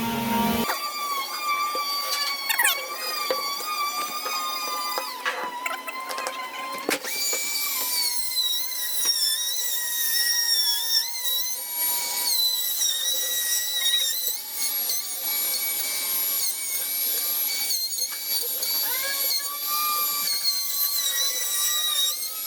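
A power drill drives a screw into curved trim for a round window, whining steadily with rising and falling high-pitched motor tones and ratcheting bursts, close and loud throughout.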